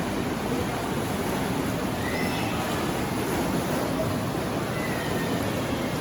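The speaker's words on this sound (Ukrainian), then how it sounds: "Він завжди бурлить враження хвилюючого моря." Water churns constantly in an adult spa pool, bubbling and roaring like a rough sea, a steady, even wash of noise with no breaks or voices.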